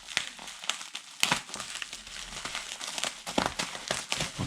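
Padded jiffy bag packaging crinkles and crackles up close as it is handled, with bursts of crumpling scattered irregularly through a few seconds, no talking.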